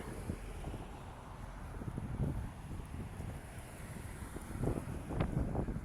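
Wind gusts buffet the microphone during an evening sunset walk along a city street, a low rumbling roar that swells and fades in uneven bursts, with a faint high tone running steadily in the background.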